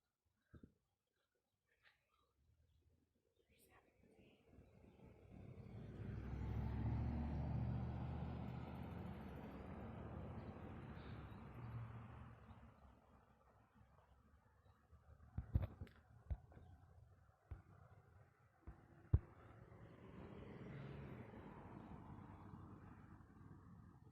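Cars passing on a road, a low rumbling swell that rises and fades, followed by scattered sharp knocks and a second softer pass; fairly distant and faint.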